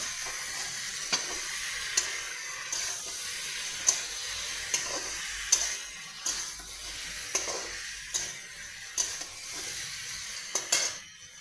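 Spice paste and fresh green chillies fry in a pan with a continuous hissing sizzle, punctuated by regular clacking scrapes of stirring roughly every second, close up and with no talk.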